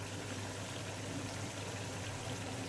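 A chicken curry simmers with Anaheim chillies added, a dense, even bubbling and hiss that stays constant and close throughout the short stretch.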